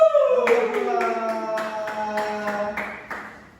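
A sixth-grade primary school class claps for a classmate in a short, rhythmic run of evenly spaced claps over a ringing tone that fades away.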